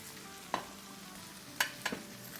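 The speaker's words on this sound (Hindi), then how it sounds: "चलो इसको हिला लेते हैं।" Chicken stir-fry with vegetables in a hot pan, a low steady sizzle with three sharp scraping clicks of a spatula stirring, near and moderately quiet, with no voices.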